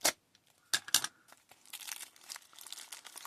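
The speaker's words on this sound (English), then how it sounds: "Let's cut it open and see." Plastic packaging of a cheap LGA 1155 delid tool being cut and torn open, sharp close snips followed by crinkling and rustling, fairly quiet.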